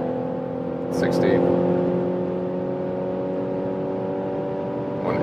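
A BMW X3 on 20-inch wheels at very high motorway speed, roughly 150 to 180 km/h: steady, fairly loud cabin drone of road and wind noise with a constant low hum, with someone talking over it.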